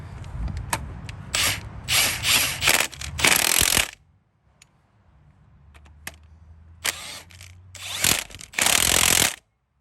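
A ratchet wrench tightens engine mount bolts on a Honda Accord 2.4L, giving bursts of rapid, close clicking, a quiet gap partway through, then more loud ratcheting runs.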